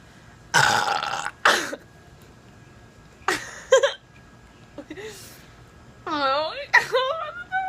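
Girls burping after drinking Pepsi: several loud, drawn-out burps come one after another with short gaps between them, and some croak with a rising, voiced tone.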